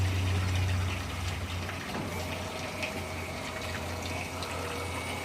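Rainwater runs through an opened PVC valve into a chicken watering system, a low hum fading after the first second into a continuous trickling gush of filling water, close by and without speech.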